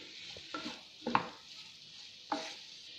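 Ginger-garlic paste, chili powder, salt, coriander powder and garam masala get stirred into tomatoes in a pan, three soft spoon scrapes and clinks over a faint, low sizzle.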